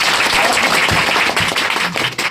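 Enthusiastic applause from an audience cheering a topper student at an academy, dense clapping throughout, loud and close, with no pause.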